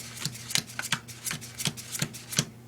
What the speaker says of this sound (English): So they deal down cards.